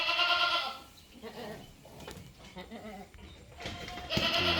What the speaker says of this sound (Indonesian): ini suasana di siang hari peternakan kambing Bulungan Mandiri Farm